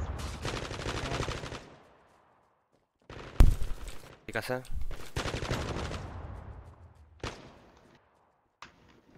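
Bursts of video game gunfire in a competitive team shooter match, rapid automatic volleys and sharp single shots in several separated clusters, with a player's voice briefly speaking between them.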